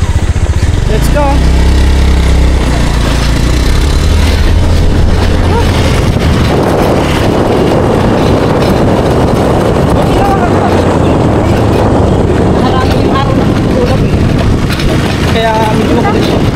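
A steady, loud roar of an engine and rushing wind noise dominates throughout, like riding on a motorbike, with voices talking faintly underneath.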